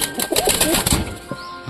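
Satin pigeons cooing close by in low, rolling calls, with a brief burst of flapping wings among them.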